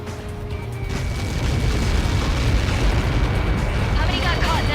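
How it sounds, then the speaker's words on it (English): A large explosion in the Ace Combat 7 jet combat game booms low and heavy, rumbling on for several seconds beneath a steady engine drone, with radio chatter over the top. "How many got caught in that explosion?"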